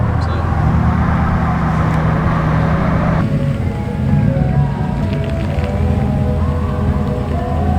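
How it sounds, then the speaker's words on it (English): A truck rolls down a long peninsula road toward a campsite at a Florida national seashore, with a steady loud engine and road roar plus wind buffeting, a low drone throughout that shifts slightly partway. "So driving down the long stretch of the peninsula right now to our campsite."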